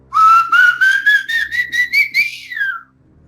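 A man whistles a rising, eerie call imitating the Silbón of Venezuelan legend, a single sustained tone climbing in steps through about ten pulsing notes before it fades, loud and close with no talk.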